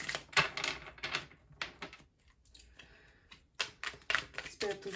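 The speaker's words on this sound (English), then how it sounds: "If I can grab these cards right so I can shuffle." Tarot cards being shuffled by hand in a few quick riffling bursts with short pauses between, close and fairly loud, while someone speaks intermittently.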